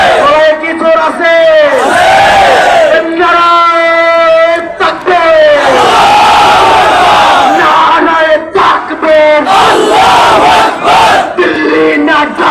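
Large protest crowd at night in Shahbag, Dhaka, chanting a slogan in loud rhythmic unison, a leader's calls answered by massed voices in repeated waves, roaring and close.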